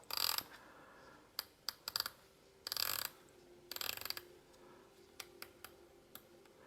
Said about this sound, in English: that's a great looking bezel, that. Does it actually twist? Yeah, it does.